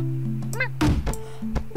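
A sharp cartoonish thunk fires off, preceded by a quick rising whistle and followed by a short bounce, like a kitten cannon firing in a cat-herding video game.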